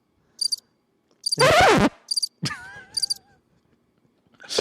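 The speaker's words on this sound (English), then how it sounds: "I don't like crickets" Crickets chirp in short, bright, rapid bursts that recur at intervals, loud and close, interrupted by a low groaning call and other brief sounds.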